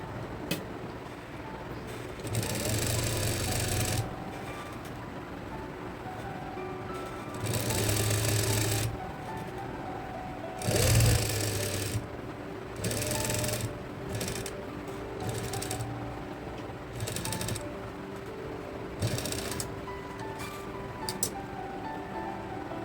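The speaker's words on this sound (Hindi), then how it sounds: "इसी सिलाई पर हम सिलाई लगा लेंगे" A sewing machine stitches a collared baby night suit in repeated motorised runs of fast rattling, several seconds each, broken by short pauses, close and steady.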